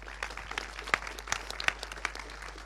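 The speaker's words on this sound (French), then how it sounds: "On peut l'applaudir" Scattered, fairly quiet applause from a small audience at a film school masterclass in Paris, sparse claps at an uneven rhythm that thin out over a couple of seconds.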